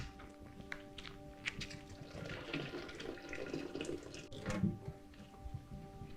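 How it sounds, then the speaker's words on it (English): Running water pours steadily as mordanted wool yarn, just lifted from hot aluminum-sulfate water, is rinsed out, with splashing and a couple of soft thunks against a sink. "we have to take the yarn out of the hot water that has the aluminum sulfite in it, and we need to give it a good rinse"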